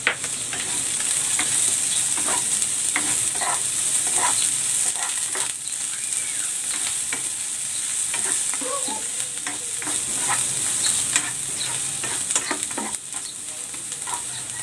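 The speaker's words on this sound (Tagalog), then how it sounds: "Magigisa na ako ng bawang." Garlic and onion sautéing in a pan for a corn dish, a steady close sizzle with frequent clicking stirs and scrapes of a utensil throughout, no talking.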